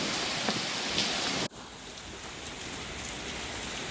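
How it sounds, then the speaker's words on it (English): Heavy, steady rain pours down in a dense, continuous hiss, with a brief sharp dip partway through before the downpour carries on unbroken. "We haven't gotten a rain like this in a long time."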